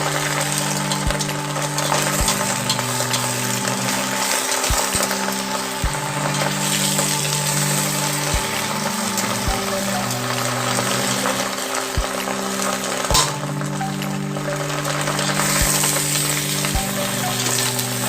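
Bok choy stir-frying with garlic in a pan, Cantonese style, gives a steady, loud sizzle and hiss with repeated low scraping thumps of stirring throughout, no talking.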